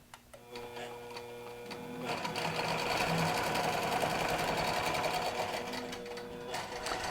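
A QBOT V3 quilting machine starts stitching, its motor whirring steadily with a fast mechanical needle rhythm that rises after a quiet start and runs continuously, close and moderately loud, with no talk.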